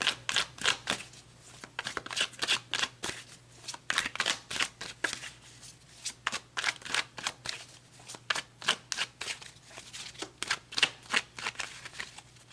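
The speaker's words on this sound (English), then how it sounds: "So let's pull some more cards." Tarot cards being shuffled during a reading, a long run of rapid, crisp riffling and flicking bursts in an uneven rhythm, close and fairly loud, heard on their own without talk.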